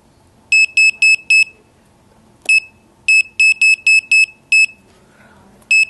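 Sharp electronic alarm beeps from an SMAN4 digital manifold vacuum alarm set at 1,000 microns, in rapid bursts of four or five, repeating with short pauses, loud and clear over a quiet background.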